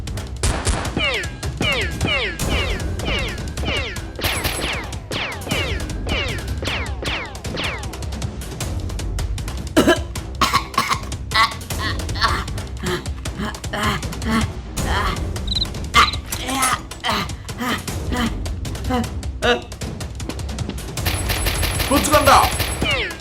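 A Nerf gun battle unfolds with rapid bursts of snapping foam-dart shots, clicks and clatter coming in dense volleys, while voices shout over the action.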